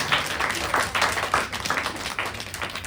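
A small group claps hands indoors, brisk uneven claps over about three seconds, fairly close and without other talk.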